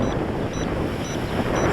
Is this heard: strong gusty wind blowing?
yes